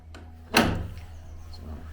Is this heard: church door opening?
yes